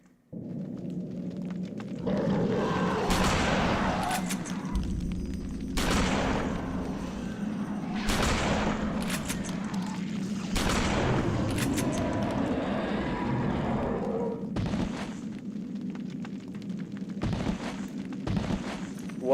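Big gun firing in Eternal Darkness, about eight loud booming shots spaced a couple of seconds apart over a steady low droning background.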